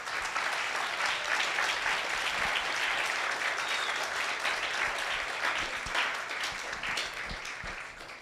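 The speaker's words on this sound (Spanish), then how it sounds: "Yo creo que eso merece un aplauso al Señor." A church congregation applauds during a Spanish-language sermon, giving a broad, sustained wash of clapping from many hands that holds steady throughout and tapers slightly at the end, with no speech over it.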